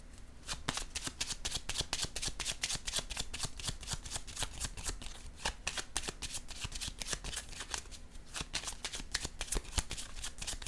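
Tarot cards are shuffled continuously at close range, a dense, steady run of rapid papery riffles and flicks lasting throughout, with no talking.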